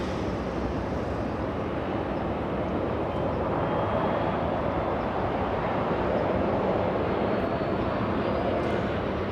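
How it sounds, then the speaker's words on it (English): Asiana airliner taxiing northbound at LAX airport, a continuous broadband jet engine roar heard from a distance, steady throughout. "We're gonna go to Asiana, taxiing northbound on Kilo"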